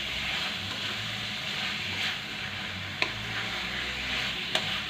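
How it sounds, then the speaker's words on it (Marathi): Bitter gourd pieces are stirred in hot oil with spices, salt and coriander powder, giving a steady sizzle with soft scraping strokes throughout and two sharp utensil clicks near the end; no one speaks. "छान या फोडी अशा या तेलामध्ये आणि मसाल्यांमध्ये मिक्स करून घ्यायचे आहेत"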